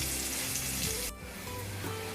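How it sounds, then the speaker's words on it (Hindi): Onions frying in a pan for a restaurant-style matar makhana sabzi, a soft, even sizzle close by that dips briefly midway and then carries on steadily. "और प्याज को हमें हल्का गोल्डन ब्राउन होने तक फ्राई करना है।"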